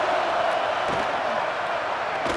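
A football stadium crowd at a Tennessee game roars steadily to pin the opposing offense deep in its own end, a constant loud wash of voices under a play-by-play commentator's talk.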